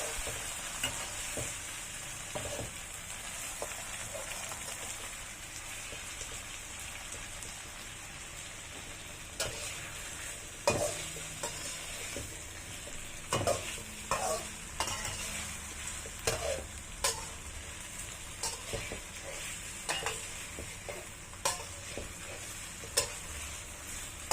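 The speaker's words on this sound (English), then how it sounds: "Now I'm going to stir it again." Sardine gravy sizzles in a pan with a soft, steady hiss while a spoon stirs and scrapes it, giving faint repeated clicks and taps throughout.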